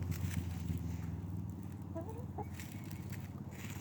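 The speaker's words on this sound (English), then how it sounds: "Are you pecking my britches, Marigold?" Hens mill about nearby, giving a few soft, low clucks against a steady farmyard background, with no talking.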